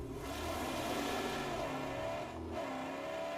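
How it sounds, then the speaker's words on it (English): A maxed-out upgraded V6 engine revs hard in a racing video game, a loud, continuous roar that rises and falls in pitch with one brief dip near the end. "Now we also could try out our new engine."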